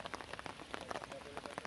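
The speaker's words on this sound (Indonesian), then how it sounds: "Hujan yang tidak kunjung reda" Rain falls steadily in a tropical outdoor setting, a close patter of many small drops on a surface, a quiet, dense spattering throughout.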